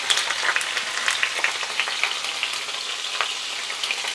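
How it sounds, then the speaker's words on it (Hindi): Paneer cubes fry in hot oil in a pan, giving a steady close sizzle with small spitting crackles throughout. "2 मिनट के लिए पनीर को हम फ्राई करेंगे"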